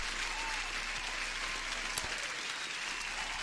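Dense, steady applause from a large crowd, even and continuous like a recorded clapping effect, holding at a constant level without talking.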